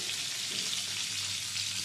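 Pumpkin frying in oil with salt and turmeric, a soft, steady sizzle heard alone at low volume.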